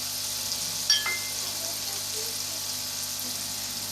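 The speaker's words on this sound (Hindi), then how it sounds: "और अब हम इसमें खड़े मसाले डालेंगे।" Whole spices fry in a pot with a soft, steady sizzle and a brief clink near the start, faint and alone.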